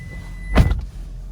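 A single close thud and latch clunk as a car door is opened, brief and distinct against a low steady background rumble.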